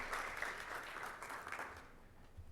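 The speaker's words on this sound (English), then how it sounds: "give Ratib a warm round of applause for putting this together" A quiet, distant round of applause for Ratib at an ICT and innovation event, soft clapping that thins and fades over a couple of seconds.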